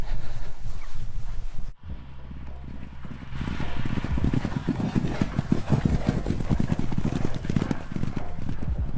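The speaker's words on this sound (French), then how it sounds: "le cheval avait l'air tout à fait décontracté, avec de bonnes foulées, bon influx" A racehorse galloping during a training session, its hooves beating a fast, steady clip-clop rhythm close by, with a low engine hum underneath and a brief dip in sound partway through.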